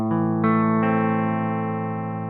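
A sustained electric guitar chord rings through a Fender Hot Rod Deluxe amplifier with no effects, struck a few times in succession and left to ring out, clean and loud.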